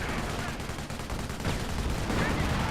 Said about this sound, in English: Oh, no, that was an actual barrage